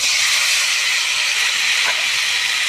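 Taro leaves hit hot oil with a cooked-down masala of spices and cashew-raisin paste, giving a loud, steady, hissing sizzle that holds evenly throughout with no voices.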